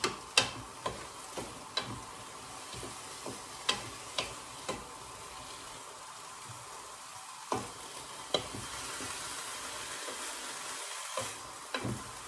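Beef empanada filling with mushrooms being stirred in a pan, a soft steady sizzle broken by a dozen or so sharp ticks and clacks of the spoon against the pan at uneven intervals, close and fairly quiet.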